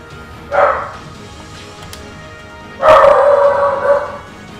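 A dog barks close by, one short bark and then a longer, drawn-out bark or howl a couple of seconds later, with quiet room tone in between.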